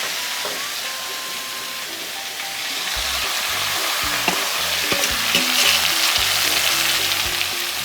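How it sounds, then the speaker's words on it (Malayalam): Anchovy (kozhuva) fish fry in hot oil for a pickle, giving a steady, close sizzling hiss that grows louder midway, with occasional stirring clinks and no talk. "നമുക്ക് ഇതും കൂടി ഇട്ട് വറുത്ത് കോരി എടുക്കാം."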